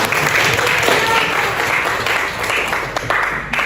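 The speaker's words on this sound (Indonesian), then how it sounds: "beri aplaus untuk temannya" Classroom applause at a junior high school in Tellu Limpoe as students clap for a classmate, a brisk, close burst of hand claps that thins out near the end, with a voice faintly heard under it.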